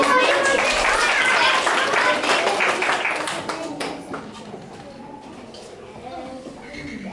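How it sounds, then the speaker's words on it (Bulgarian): Children clap in a classroom of a kindergarten group, a dense burst of applause that fades out after a few seconds, leaving quieter room noise and scattered taps. "Аплодисменти!"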